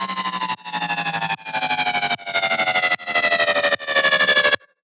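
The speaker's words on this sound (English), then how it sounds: "This is called the MARAUDA Pitch Down Sustain" A MARAUDA-style tearout sustain bass synth plays loud, gritty held notes that slide downward in pitch. Six notes repeat in a regular pattern, each separated by a brief gap.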